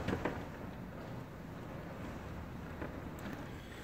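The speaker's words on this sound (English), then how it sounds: "Windows are rattling. The screens are bouncing back and forth." Hurricane Irma winds roar steadily against a house, rattling windows and bouncing screens, a dense continuous rush with a few sharper knocks near the start and around the three-second mark.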